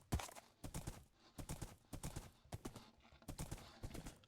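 Horse hooves clip-clop steadily in a video game as the horse climbs and descends mountain terrain, a brisk, even rhythm of close, crisp strikes in repeating groups.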